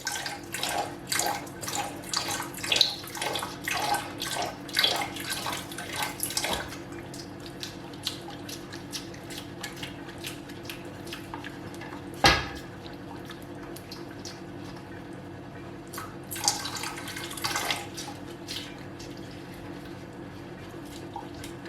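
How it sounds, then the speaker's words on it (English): Water is dropped into hot cooking oil in a home kitchen, giving a steady crackling sizzle with dense clicks that calm after several seconds, plus a sharp pop and later brief spattering bursts, close by. "I'm just going to be dropping this water inside the oil."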